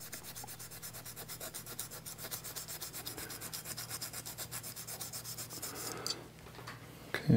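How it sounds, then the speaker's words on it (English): A Scotch-Brite pad scrubs a metal plate clean before soldering, making a fast, steady back-and-forth rasping rhythm up close, which ends with a few louder knocks at the finish. "we'll just get this clean with some Scotch-Brite"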